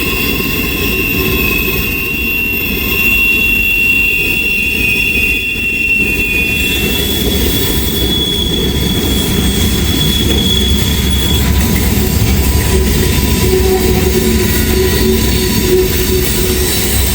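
Freight train of potash grain hopper cars passing in Hamilton, a loud continuous rumble with clattering wheels and high drawn-out wheel squeals, close by and unbroken throughout.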